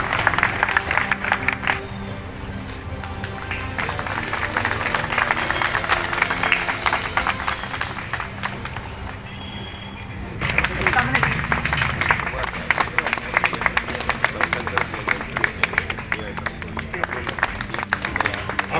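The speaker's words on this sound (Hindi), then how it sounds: "आप लोग करतालियों से उनका स्वागत करिए" Applause from an audience welcomes an award recipient onto the stage at the Jamalpur Locomotive Workshop's 164th anniversary celebration, with steady dense clapping for the whole stretch and a brief dip midway before it swells again.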